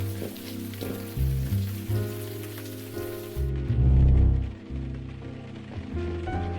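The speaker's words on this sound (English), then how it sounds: "Ugh, stupid rain." Steady rain falling in the Blackwell Epiphany adventure game, a dense wash over a low droning backdrop with a swelling rumble partway through, no talk over it.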